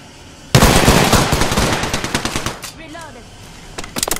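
Automatic gunfire in a battle royale video game comes as a sudden loud, close burst of rapid shots that fades into spaced single cracks, then a short fresh burst at the end.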